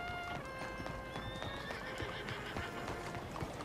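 A horse in Red Dead Redemption 2 whinnies with a rising, quavering call while hooves clop steadily over the ground; a faint, gamelike backdrop hums underneath.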